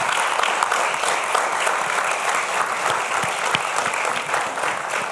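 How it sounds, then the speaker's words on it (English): Loud, full applause from a youth symposium audience for the presenters, with thick continuous clapping and some sharper close claps scattered throughout the room. "Ladies and gentlemen, let's give our presenters another round of applause."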